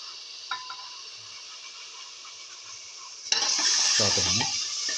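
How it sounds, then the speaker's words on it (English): Coconut mixture sauteing in a pan for a potato and fenugreek leaf stew, quiet at first, then a sudden loud sizzle with stirring and scraping that carries on steadily to the end. "Thoroughly saute it. Keep on mixing."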